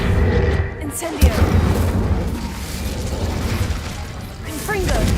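The Incendio fire spell in Hogwarts Legacy throws out a loud whooshing burst with a sharp crack near the start, then a sustained roaring rush that swells again at the end, with some voice underneath.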